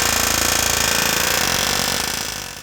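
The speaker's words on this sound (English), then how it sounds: "if you have access to an air chisel, now's the time to use it." An air chisel hammers off rivet heads on a PreRunner Ford Ranger truck frame during a lift install, a loud rapid steady metallic rattle that runs continuously, then fades slightly at the end.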